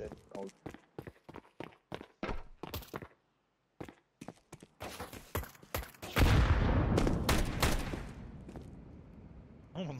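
Rapid gunfire in Counter-Strike 2 on the Overpass map, a dense burst of shots and footsteps mixed under excited player talk, loudest in a sustained volley near the end.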